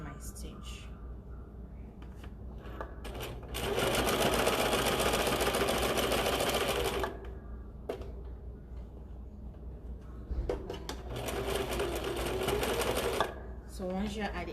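A sewing machine stitches fabric, running in two loud steady bursts of rapid whirring and ticking with quiet pauses between and around them. Faint handling noises fill the gaps.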